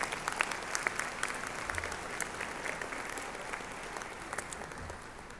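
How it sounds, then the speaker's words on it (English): A commencement crowd gives Judge Tijerina a sustained round of applause at the 2014 summer ceremony, a broad, even roar of many hands in a large hall that fades slightly toward the end. "A round of applause for Judge Tijerina."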